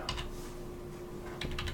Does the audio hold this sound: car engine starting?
no